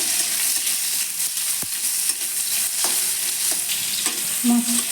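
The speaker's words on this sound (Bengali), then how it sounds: "এবার আমি টমেটোগুলো দিয়ে দিচ্ছি একটু নাড়াচাড়া করে নেব" Tomatoes sizzle steadily as they fry in a pan for a Bengali doi pabda dish, with a few sharp scrapes and taps of a spatula stirring them, close and continuous with no talking.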